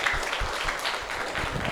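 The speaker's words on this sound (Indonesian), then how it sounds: "Tepuk tangan untuk pemateri kedua kita" Seminar audience clapping for the second presenter at an Indonesian youth seminar, a short burst of scattered handclaps from a modest crowd in a hall, fairly soft and brief.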